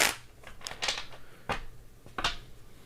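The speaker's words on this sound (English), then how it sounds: "Let me shuffle this really quick." Tarot cards being shuffled, several quick riffling bursts separated by short pauses, close and fairly quiet.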